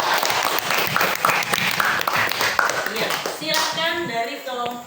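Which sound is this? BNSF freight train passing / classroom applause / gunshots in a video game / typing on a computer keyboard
classroom applause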